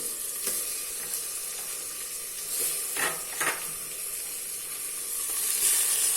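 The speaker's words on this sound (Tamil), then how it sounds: "இப்போ இதை வதக்கி விட்டுக்கலாம்." Tomatoes and vegetables sautéing in a pan for vegetable biryani, with a steady moderate sizzle and a few brief stirring scrapes near the middle; nobody speaks.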